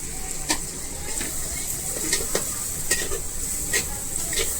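Onion and garlic fry in a pan under repeated stirring, a steady bright sizzle with rhythmic scraping strokes every half second or so, close up and with no talking.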